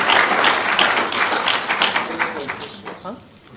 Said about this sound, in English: just another round of applause for Bronson and Chris, please.